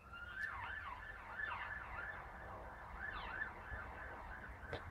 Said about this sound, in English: Bastard ambulance.